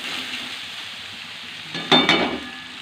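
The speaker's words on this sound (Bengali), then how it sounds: "আমি এটাকে নেড়ে নেড়ে ভালো করে ভেজে নিচ্ছি।" Durga chhatu mushrooms sizzle in a pan as they are stirred and fried, with a faint hiss that swells into a short burst of crackling around one stir, heard up close with no voices.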